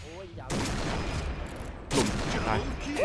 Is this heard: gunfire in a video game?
yes